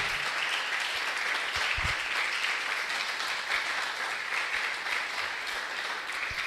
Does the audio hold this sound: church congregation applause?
yes